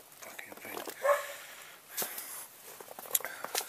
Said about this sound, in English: ignore the dog. It's not mine.